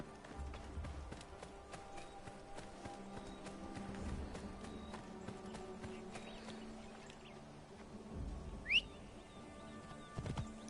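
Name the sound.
horse hooves galloping in Assassin's Creed Origins video game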